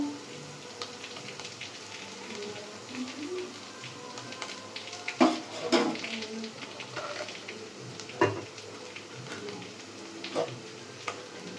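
Garlic paste frying in a pan, a steady soft sizzle and crackle with occasional sharper pops and stirring scrapes, moderately close and continuous throughout.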